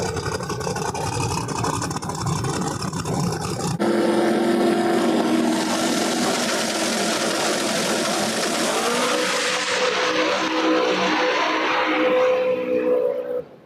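Drag race cars at a Street Outlaws No Prep Kings event at Flying H, season 7 in 2024, loud roaring engines launching and screaming down the strip, the pitch rising and then fading away.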